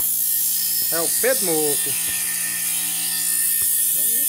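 A machete is being sharpened on a bench grinder, a steady high hiss running underneath while someone talks briefly over it.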